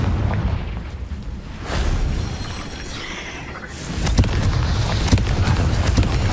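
Confringo blasting curse explosions in the video game Hogwarts Legacy, deep booming blasts with a rumbling tail, a first burst followed by a louder series of impacts and crackling pops.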